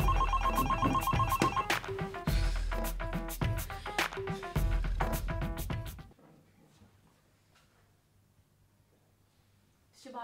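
A telephone rings in a Jamaican comedy stage show, its bell pulsing loud and repeatedly for about six seconds before dropping to quiet background.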